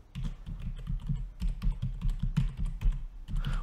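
A password is typed on a computer keyboard to log in to Azure Virtual Desktop: rapid, irregular clicking keystrokes, close and clear, with no talking.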